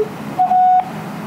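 Strange electronic beep tones on a phone line before a recorded message: a short tone, then a steady, clear beep of about half a second, alone over faint line hiss.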